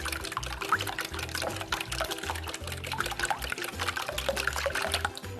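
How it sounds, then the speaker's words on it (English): A whisk beats a wet gluten-free crepe mixture in a bowl, producing quick, rhythmic sloshing strokes that repeat steadily and close by. "What I'm going to do now is just mix this up using a whisk. I'm just whisking it together."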